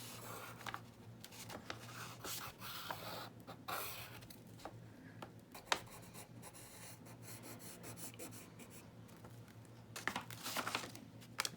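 A pen or pencil traces around a shape on paper, giving a steady, soft scratchy rubbing with a few brief louder scrapes, close and quiet, with no talk.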